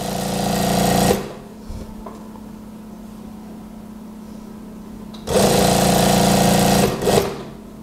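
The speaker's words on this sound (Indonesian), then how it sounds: "Kita jahit langsung terus ke bagian bawah." A sewing machine stitching the pocket of a daster dress whirs loudly for about a second, falls quiet, then runs again in a longer burst of steady needle chatter near the end.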